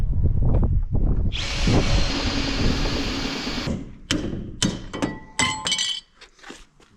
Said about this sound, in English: We'll just drill them.